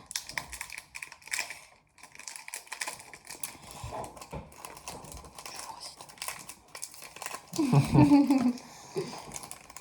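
A Pokémon booster pack wrapper crinkles and tears in close, scattered bursts, with louder crumpling near the end and a voice talking quietly over it.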